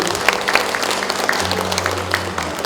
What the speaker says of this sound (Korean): 여러분 다시 한 번 더 큰 감사의 박수 부탁드리겠습니다